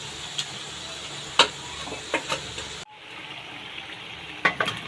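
Fried potatoes go into a pan and sizzle steadily, with a few sharp clinks of stirring and spatula taps, the hiss dropping briefly then resuming at a lower level.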